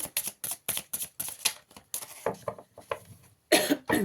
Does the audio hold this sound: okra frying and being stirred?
no